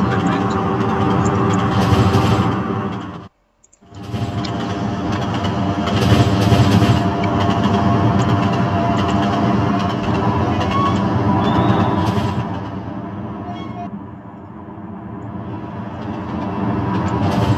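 A train in the Trainz Simulator 2012 game accelerates toward the line speed limit. A dense, loud engine and rolling drone runs throughout, with a brief dropout early on and a slight easing later.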